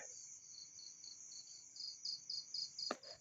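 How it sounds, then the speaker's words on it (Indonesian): A dense night-time chorus of crickets trills nonstop with rhythmic pulsing chirps, ending with a brief sharp click. "Suara jangkrik ramai banget ya"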